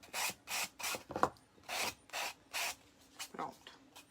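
Sandpaper rubbed back and forth along the top edge of an MDF piece to distress it for an aged finish, giving about nine short rasping strokes in a steady rhythm, close and fairly soft.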